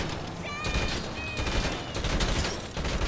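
Sustained automatic gunfire in GTA V hammers at an armored vehicle, a steady close rattle with bright pings of bullets striking metal and glass.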